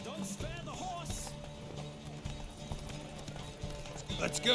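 Horse hooves galloping during a race in The Witcher 3, a steady rhythmic clip-clop of hoofbeats beneath wind rush and game sound, with voices talking over it.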